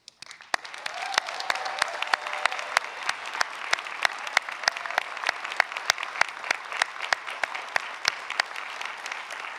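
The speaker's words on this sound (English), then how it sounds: "please join me in another round of applause for the newest officer in the United States Army" Commencement audience in a field house applauds a newly commissioned Army officer, a dense, steady wash of many hands clapping for nearly ten seconds, with a few sharper claps standing out near the front.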